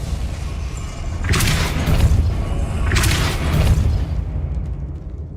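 A Depulso force spell cast in the game Hogwarts Legacy: two loud, booming blasts about two seconds apart over a steady rumbling game backdrop, with no talking.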